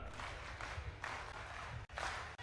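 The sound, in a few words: conference delegates applauding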